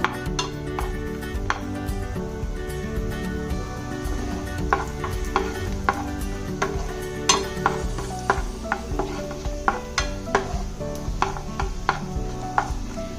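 Cashew nuts dry-roasting in a pan while being stirred, a steady close scrape and rustle with irregular clicks and taps of a spoon on the pan, no talking.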